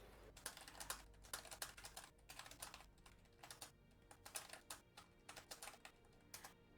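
Typing on a computer keyboard during a game session, with quick clusters of close, crisp key clicks and brief pauses between bursts; no talking.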